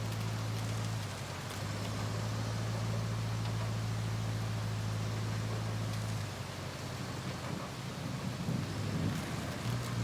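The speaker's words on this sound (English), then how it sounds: "And it's raining on top of that, so it's not making it any better." Rain in the RoadCraft game falling steadily as a dense hiss over a low engine drone, loud and continuous with a deeper rumble later on, no voices.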